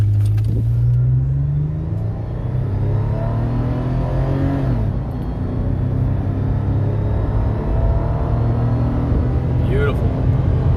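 2014 Toyota FJ Cruiser accelerating and shifting through its automatic transmission on a road, engine rumble rising and dropping in pitch with each gear change, heard from inside the cabin under a voice talking.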